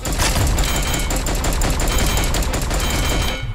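Dense, continuous rapid gunfire from dual-wielded guns in the video game Milkman Karlson, loud and sustained for about three seconds, with no talking over it.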